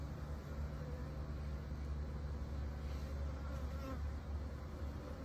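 A swarm of Italian honey bees clustered on a tree limb, making a dense, continuous buzzing drone close by, steady and unbroken for several seconds with no talking.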